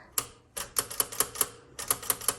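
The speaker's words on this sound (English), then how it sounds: "Now this key right here is sometimes when you hit like 2 keys at once, they'll get stuck up there." Keys of a 1973 Smith-Corona Galaxie Twelve typewriter struck in an uneven run of about eleven sharp, close clacks, with short pauses between bursts of typing.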